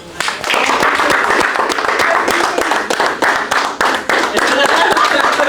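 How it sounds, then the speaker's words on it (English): A round of applause from a group of people, dense continuous clapping sustained loudly throughout with voices mixed in underneath. "Round of applause for Proper, Raw, and Biordi"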